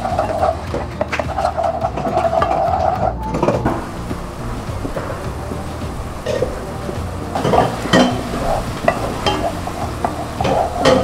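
Stirring and sizzling of a blended spice paste for soto tauco frying in hot oil, with scraping of a utensil against the pan and occasional clinks, steady and close.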